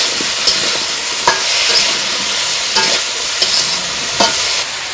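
Mixed vegetables frying in a pan with salt, turmeric, chili and green chilies, a loud steady sizzle broken by regular scraping clicks from a spatula as they are stirred and tossed, with no talk.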